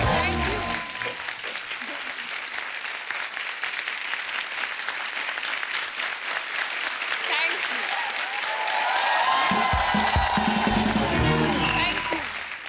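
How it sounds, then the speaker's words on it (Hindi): Loud studio audience applause and cheering on a comedy talk show, a dense rapid clapping that swells louder toward the end, with a voice speaking over it in places and whoops rising near the close. "दीपिका के लिए एक बार जोरदार तालियां।"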